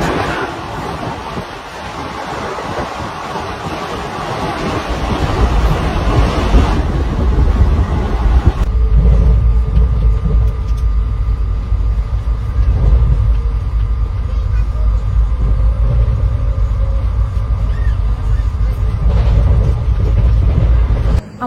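The 12383 Sealdah–Asansol Intercity Express superfast train runs with a loud, steady rumble and rush of wind from inside the coach, the tone shifting partway through as the running sound changes.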